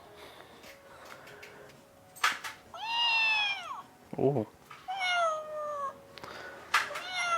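A cat-shaped toy gives out several loud, close electronic meows in separate bursts when touched, with a brief exclamation from a person between them.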